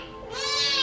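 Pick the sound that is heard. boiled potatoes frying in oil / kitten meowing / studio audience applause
kitten meowing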